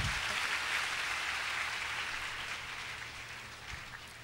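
An audience at an annual festival in Allahabad applauds a welcome with steady, continuous clapping from many hands, fairly loud at first and then gradually tapering off, with no voices over it.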